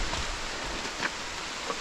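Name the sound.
rain falling on leaves under trees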